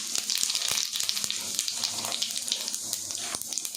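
Fennel and cumin seeds sizzle in hot oil for an egg fried rice, making a crackling hiss broken by sharp pops and spits, close and moderately loud, with no speech.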